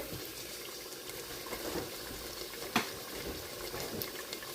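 Tap water runs into a jug in a home kitchen, a close, steady rushing pour with a faint splash partway through and no talking.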